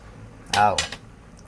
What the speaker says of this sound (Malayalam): നല്ലപോലെ ഇളക്കുന്നുണ്ട്